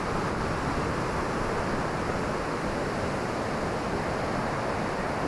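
Ocean surf pounds the shore at Rialto Beach on Washington's Olympic Peninsula, a steady, loud roar of breaking waves with wind noise running unbroken throughout.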